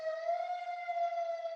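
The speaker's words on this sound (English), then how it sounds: "that was just a siren" An outdoor siren wails steadily as it passes outside, a sustained clear tone of moderate loudness with no talking.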